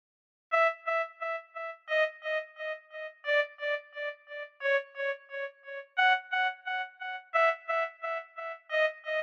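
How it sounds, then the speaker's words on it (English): Valved bellows patch from LABS Electronic Antique, a reedy, organ-like synth tone, plays a steady run of short repeated notes with tape delay in quarter notes, each note echoing, alone and at moderate level. "So for this accent, I'm using the valved bellows patch"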